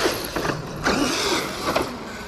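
Traxxas E-Revo 2.0 electric RC truck held in a wheelie at near full throttle, its motor whining and drivetrain whirring with rising and falling pitch sweeps over about two seconds, close and fairly loud.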